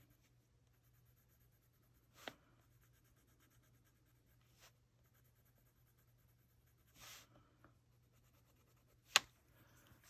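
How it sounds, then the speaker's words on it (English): Soft, super-soft Derwent drawing pencil scratching on paper, quiet steady graphite strokes with a few louder sharp scrapes spaced through the stretch, close and alone with no talk. "So this is a Derwent drawing pencil."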